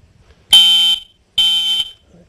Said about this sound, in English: Very loud to wake you up, so therefore have a smoke detector.